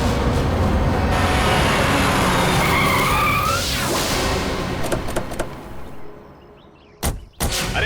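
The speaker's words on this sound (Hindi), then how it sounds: "अरे गाड़ी क्यों रोक दी, देख के चला ना।" A vehicle on a village road skids to a stop with a long, loud tire screech that fades out, followed by a couple of sharp thuds like a door being shut.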